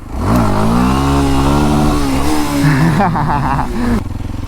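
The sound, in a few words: motorcycle engine revving during a wheelie attempt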